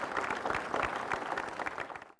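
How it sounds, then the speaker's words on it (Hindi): A seated audience at a higher-education panel discussion applauds warmly to welcome a physical instructor panelist, with dense steady clapping that carries on evenly for about two seconds before tapering off. "इनका जोरदार तालियों से स्वागत कीजिए"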